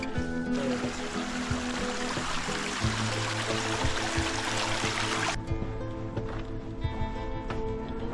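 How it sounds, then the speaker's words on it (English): Water flows in a big stream on the Old Loggers Path backpacking trail, a steady near rush that eases after a few seconds, leaving a softer trickle with faint footsteps. "we got another big stream up ahead"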